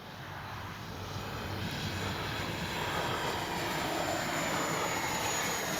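Flyfans Baltic Bees 64mm EDF L-39 model jet on its maiden flight, a steady broad jet-like roar held at constant loudness throughout, fairly near, with no talk.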